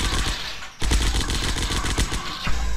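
Sustained automatic assault rifle fire in a zombie shooter video game, loud and continuous with rapid repeated shots after a brief lull, no talking.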